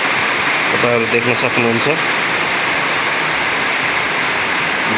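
Heavy early-morning rain pours steadily in Butwal, a dense continuous wash of noise at close range, with someone briefly speaking over it near the start.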